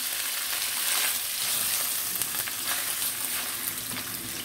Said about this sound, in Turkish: kuyruk yağını kavuracağım